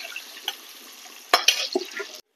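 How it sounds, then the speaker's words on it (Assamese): Paneer pieces frying in a home kitchen pan give a steady soft sizzle, broken by a few louder clatters and scrapes of stirring near the end. "এইপিনে আকৌ ফ্ৰাই কৰি আছো পনীৰখিনি"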